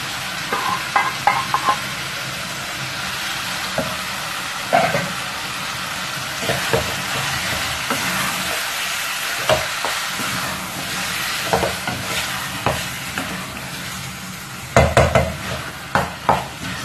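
Gizzard stock poured into a hot frying pan for peppered gizzard kebab, a broad hissing sizzle that holds steady while a utensil clinks and scrapes at intervals, close and loud.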